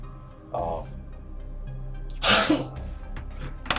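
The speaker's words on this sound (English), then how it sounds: "That was the tickliest of sneezes." A single sneeze bursts out amid a group's relaxed conversation at a tabletop role-playing session, sharp and close, with talking before and after it.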